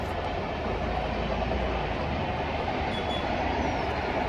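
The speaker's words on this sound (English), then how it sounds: "we can see the train rolling by." Steady rumbling roar of a train rolling by in the morning near a mosque in an Indian village, a continuous broadband wash of wheels and carriages heard at moderate distance without voices.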